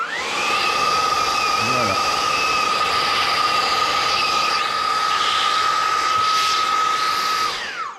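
A Dreame T30 Mistral cordless vacuum cleaner with its long flat LED nozzle runs as a steady, loud high-pitched whine with airy rushing noise, continuous throughout, with a brief spoken word near the start.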